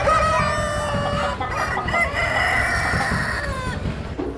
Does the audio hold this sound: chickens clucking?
yes